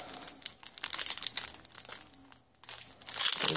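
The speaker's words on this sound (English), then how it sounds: "So let me put this down so I can use two hands to open up the Pokemon cards." A foil pack of Pokemon cards is torn open and crinkled by hand, with close, bright crackling and crumpling in uneven bursts and a brief quiet moment before a louder final rustle.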